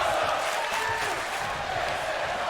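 A wrestling show crowd cheers and roars in a steady, dense wash of noise, with a commentator's voice faintly audible underneath.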